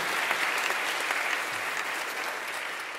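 Concert audience applauding steadily at an end-of-season concert, a dense, even wash of clapping that holds for the whole stretch and only eases slightly at the end.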